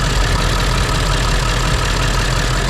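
A Ford 7.3 diesel engine idles steadily, alternator charging, a loud continuous low rumble with a faint knocking texture, close by and with no talking.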